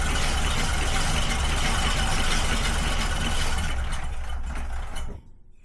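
A 100-year-old car engine, brought back after 55 years parked, runs at wide open throttle with a loud, steady rattling roar heard close, then cuts out abruptly near the end, leaving quiet.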